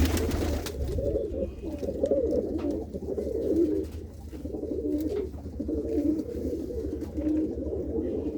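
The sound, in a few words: pigeons cooing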